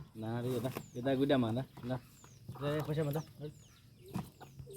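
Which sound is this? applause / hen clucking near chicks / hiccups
hen clucking near chicks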